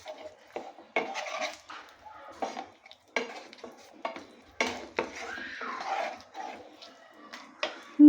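Utensils clink and scrape in a pan of onion paste with tomato puree, turmeric, chili, cumin and salt on low heat for a duck egg curry, a string of separate stirring knocks with a faint sizzle between them.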